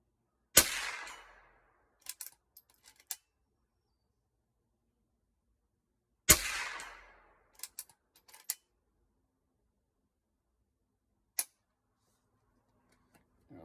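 .22 rifles fire during open sight practice outdoors: two sharp, loud cracks about six seconds apart, each followed by faint clicks and small knocks of handling, with a further lone click later.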